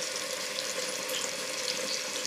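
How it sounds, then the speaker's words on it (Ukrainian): Steady, even sizzling of chops, pancakes and other food frying in a pan, a continuous hiss with no talking over it. "Все смажиться."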